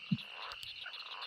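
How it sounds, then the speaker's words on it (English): A frog croaks in a marsh within a point-and-click adventure game, with a short, low, throaty croak at the start, another near the end, and a faint ambient hum between them. "Kill a frog."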